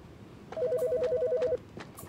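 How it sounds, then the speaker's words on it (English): A telephone rings in a horror video game, one clear electronic ringing burst of about a second, loud against a quiet, eerie background, with no one speaking. "I hear a phone ringing."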